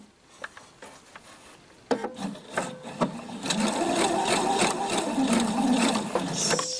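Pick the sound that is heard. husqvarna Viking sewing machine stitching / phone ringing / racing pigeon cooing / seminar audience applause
husqvarna Viking sewing machine stitching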